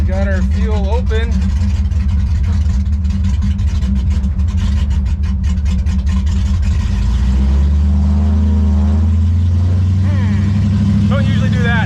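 A 1957 Chevy Sedan Delivery Pro Street car engine runs loud and close with a low rumble that stumbles and sags as if dying, while someone talks over it.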